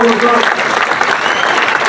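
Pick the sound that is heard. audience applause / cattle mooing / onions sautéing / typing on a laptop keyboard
audience applause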